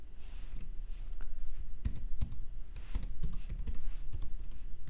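Keys clacking on a computer keyboard as a password is typed, a quiet irregular run of individual taps and clicks at close range against a low background hum, no voices.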